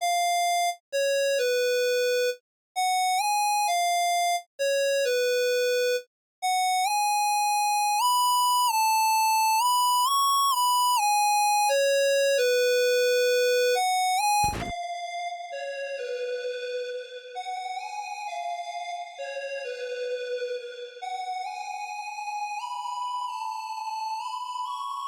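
A bright FL Studio synth with chorus, heavy spacious reverb and compression plays a stepped, bell-like melody. A sharp hit midway gives way to a washy, echoing tail of overlapping notes that sustains to the end.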